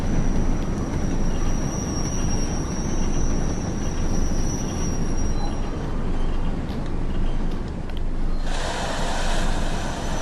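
A class 08 shunter in Train Sim World brakes to a stop, a dense low rumble of wheels on rail with a thin squeal, then a brighter hiss of air as the train halts.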